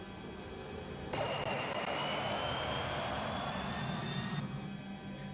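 A DC-9 jet takes off in a flight simulator game, its engine roar holding steady for several seconds with a rising whine layered over it.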